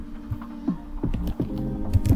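Keys tapped on a computer keyboard, a short run of close, crisp clicks with a low hum underneath and no talking.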